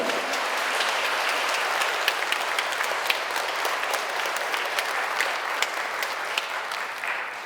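Welcoming applause from a church education audience for a lecturer: dense, continuous clapping from many hands, fairly close and even, with a few sharper claps standing out and no talk over it.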